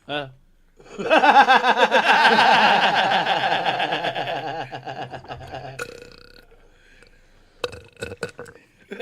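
A long, gurgly burp rolls out close and loud for several seconds, followed by a few short, choppy vocal sounds.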